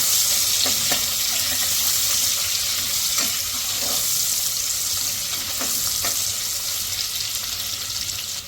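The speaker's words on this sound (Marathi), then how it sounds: "कांद्याला आता छानपैकी ब्राऊन करून घ्यायचं आहे" Onions fry in a pan to caramelize, giving off a loud, steady sizzle throughout, with occasional soft stirring scrapes and taps.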